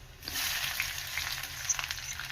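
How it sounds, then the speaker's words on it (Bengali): Onion and garlic fry in hot mustard oil with a dense, even sizzle and occasional light pops, heard close and steady with no voices. "এখন পেঁয়াজটাকে এখন আমি রসুনের সাথে আবার ভেজে নিচ্ছি"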